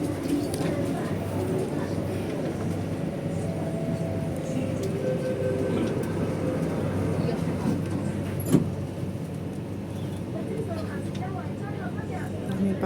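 Steady rumble of a train carrying passengers toward Mongkok Station in Hong Kong, a continuous low drone with a brief clunk midway and people talking in the carriage over it.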